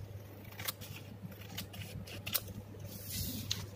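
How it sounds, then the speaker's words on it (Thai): Scissors snip through folded paper for a craft flower bouquet, giving a few quiet, sharp cutting clicks spaced irregularly against a faint background hum. "แบบนี้นะแล้วเราก็ใช้กรรไกรนะคะตัดค่ะ"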